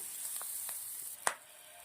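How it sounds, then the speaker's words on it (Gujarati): Sliced onion, chilli, garlic and ginger cook in a pan with a faint, even sizzle, a few light stirring scrapes and one brief clink of a spoon near the end. "ડુંગળી થોડી સરસ મજાની શેકી લેશું."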